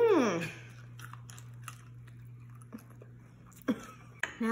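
Someone chews pepper jam from a charcuterie board: a few soft, wet crunching bites at close range, quiet and spaced out, over a steady low hum.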